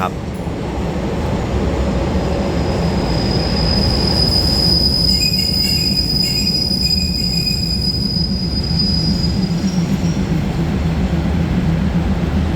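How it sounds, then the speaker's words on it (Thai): Diesel railcar express train 71, made up of THN railcars and an ATR air-conditioned car, pulls into platform 1 at Krung Thep Aphiwat station in Bangkok. It gives a loud, continuous rumble, and thin, high wheel squeals rise and fade midway through. "ขบวนรถด่วนดีสรางที่71นะครับ ต้นทางกรุงเทพอภิวัตปลายทางอุบลราชธานี เข้าเทียบชันชลาที่1น"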